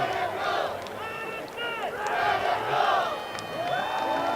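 A stadium crowd cheering at an ultimate frisbee playoff game, Pittsburgh Thunderbirds at Madison Radicals, with loud sustained roaring, whoops and shouts that swell and surge throughout.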